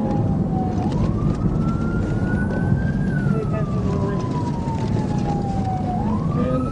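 A police car siren wails steadily through a night-time chase on the road, rising and falling in long sweeps over a loud, constant rush of engine and road noise.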